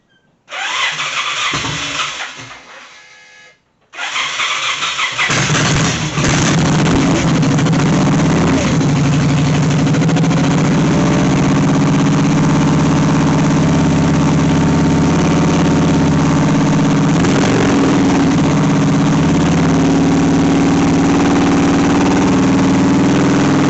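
A previously abandoned Victory V92 Sport Cruiser motorcycle engine cranks and catches, cuts out briefly, then restarts and settles into a loud, steady, rumbling idle that continues without pause.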